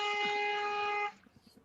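A loud, sustained car horn blast outside holds for about a second, then cuts off abruptly, leaving faint background noise.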